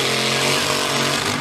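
A Saker 20-volt battery tree-trimming chainsaw cuts through branches up to about four inches thick, giving a steady, loud, continuous motor whine up close.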